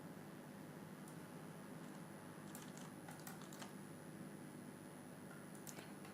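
An email address typed on a computer keyboard: sparse clusters of faint, quick key taps over a constant hiss, quiet and somewhat distant, with no speech.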